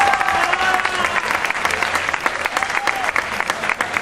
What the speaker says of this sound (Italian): Io farei ancora un applauso alla Semichelli.